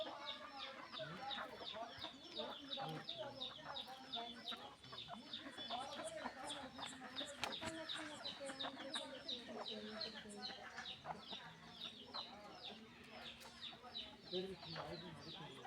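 Hens and a rooster cluck continuously in a busy, steady chorus, fairly close, with some speech mixed in.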